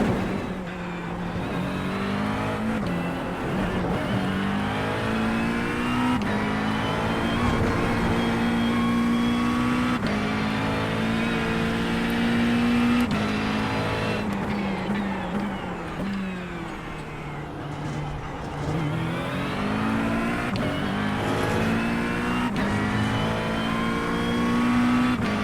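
Race car engine in iRacing on a track with a chicane, a loud continuous drone that climbs and falls in pitch through repeated accelerations and shifts, alone without talk.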